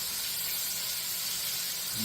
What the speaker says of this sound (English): just let it fry it up a little bit